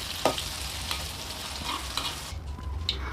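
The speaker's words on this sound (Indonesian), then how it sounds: "Oke, tahunya sudah digoreng, jadi aku mau tumis langsung." Tofu frying and being stirred in a pan, a steady close sizzle with scraping stir strokes and a few sharp clinks of the utensil against the pan.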